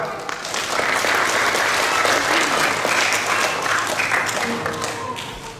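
A Sunday school Christmas congregation at a GIDI church in Puncak Jaya breaks into sustained, dense applause that swells and then slowly tapers, loud and close, with some voices mixed in.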